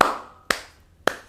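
Three sharp, separate hand claps ring out about half a second apart at an Indonesian spiritual ritual gathering, each crisp and fairly near with a short decay into quiet.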